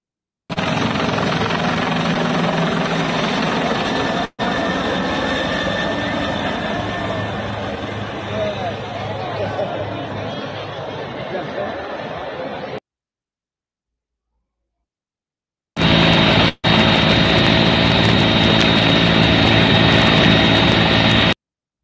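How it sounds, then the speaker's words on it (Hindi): A helicopter flies over Hindu pilgrims bathing on Mauni Amavasya and showers them with flower petals, giving a loud, steady rotor and engine roar that drops out briefly and then returns. "ये पुष्प वर्षा करते हुए हेलीकॉप्टर है"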